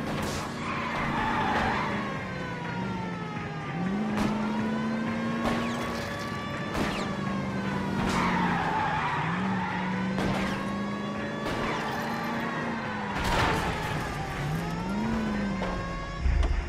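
Car tires skid and squeal in a video game police chase in L.A. Noire, loud engine revving underneath with repeated long squealing tones rising and falling, sharp impacts punctuating the steady roar.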